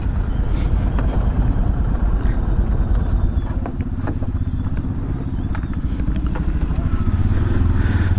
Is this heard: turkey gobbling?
no